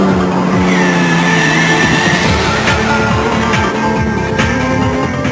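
A 1998 Toyota rally car engine drives hard through the desert during the Dakar Rally, loud and close with steady revving and repeated gear changes, no talk.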